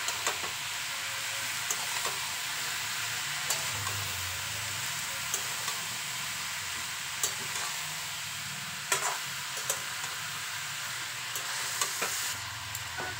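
Potato and cucumber fry with spices in a pan, a soft continuous sizzle with intermittent scraping clicks as the mix is stirred, fairly quiet and close, with no talking.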